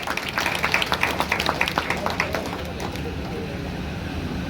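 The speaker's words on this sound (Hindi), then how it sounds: "उनके लिए भी आप दिल खोलकर ताली बजाएं" Audience applause at a student ceremony in Bharatpur, a dense patter of clapping that rises in bursts for the first few seconds, then settles into a steady, softer wash of hands.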